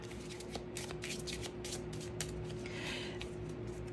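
A small handmade oracle card deck is shuffled up close. Quiet, rapid riffling and soft card slaps repeat steadily, with no one talking.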